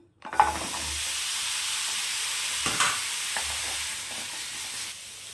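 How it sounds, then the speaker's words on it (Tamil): Shallots sizzle steadily in hot oil in a pan for mutton varuval, with a few scraping stirs and clinks of the spoon against the pan, moderately close and quiet. "வறுத்தாச்சு சின்ன வெங்காயம் சேர்த்துக்கலாம்"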